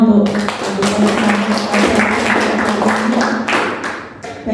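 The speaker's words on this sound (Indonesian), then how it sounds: "Kasih tepuk tangannya untuk" A group of teachers clapping their hands at a school session, a short run of steady, moderately loud claps over a faint low hum.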